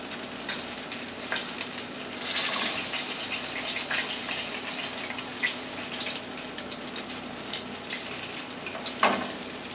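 Buttermilk-battered chicken wings fry in a shallow layer of oil, a loud, dense sizzle and crackle that holds steady throughout with occasional sharper pops and no talking.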